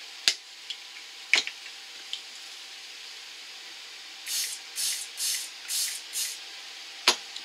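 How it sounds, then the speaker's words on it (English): Several short spritzes of makeup setting spray onto a makeup brush in quick succession, close by, preceded by a few sharp clicks, with no talking. "Just using setting spray to dampen the brush."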